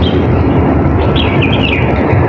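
Birds sing in a garden of trimmed bonsai trees, their high chirping phrases rising over a loud, dense, constant background rush.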